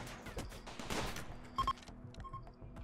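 Gunfire from a battle in the video game Rimworld, with scattered sharp shots across a busy mix, including a louder double report in the middle, fairly close.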